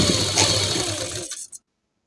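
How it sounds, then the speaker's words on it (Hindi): A sewing machine stitching saree pleats runs in one loud, close, rattling burst and then stops suddenly, followed by silence. "अब इसको फिर से पकड़े और सिलाई लगाना स्टार्ट कर दे"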